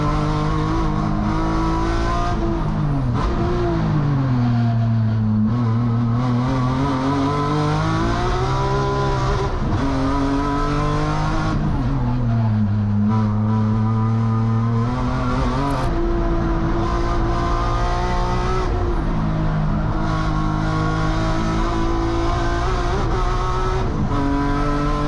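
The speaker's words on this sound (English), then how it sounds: "The V8s are warming up." V8 race cars warming up on a grassroots circuit, loud engines rising and falling through revs as they pass and accelerate, continuous and close for the whole stretch, with no speech.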